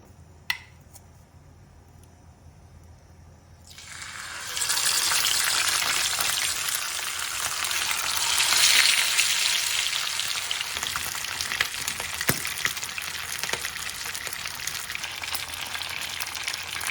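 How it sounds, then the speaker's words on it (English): Fish frying in hot coconut oil, a steady loud sizzle that starts abruptly a few seconds in after a quiet opening and continues unbroken, with small crackles and pops throughout. "You can turn the fish and fry it to the other side when it starts sticking to the bottom."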